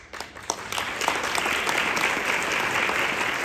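An audience breaks into applause at a political speech, starting with a few scattered claps and swelling within a second into steady, dense clapping that holds to the end.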